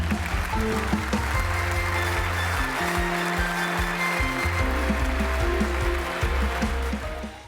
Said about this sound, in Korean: 여러분 힘찬 박수를 부탁드립니다.